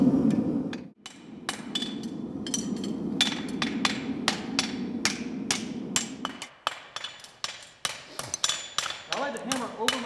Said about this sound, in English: I'm going to shape a hind shoe out of this shoe with 7 hammer blows.